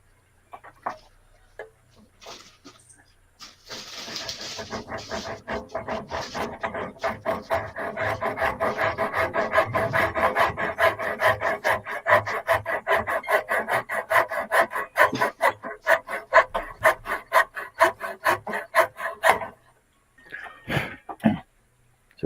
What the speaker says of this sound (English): I'll use my miter saw instead. And just try and keep it on the inside edge.